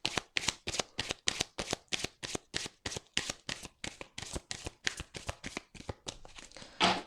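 Tarot cards are shuffled for a reading: a long run of crisp, close riffles and slaps, about two to three per second, steady and rhythmic, ending in one heavier rustle.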